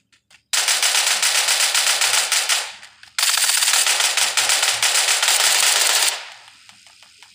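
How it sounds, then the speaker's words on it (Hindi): Rapid automatic gunfire from the Badlanders video game, loud and close, two long sustained bursts of dense rattling shots separated by a short pause, with no voices. "फायरिंग फायरिंग कर रही है"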